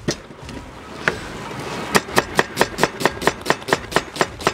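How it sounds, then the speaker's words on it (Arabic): An onion being chopped on a board: a few scattered knife strikes, then a quick even run of about a dozen sharp, close chops in steady rhythm. "أول شيء بنقطع البصل"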